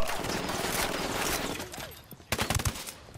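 Dense gunfire in the video game Ghost Recon Wildlands, a loud sustained volley of rapid shots and then a few heavier separate blasts, with game noise around it and no talk.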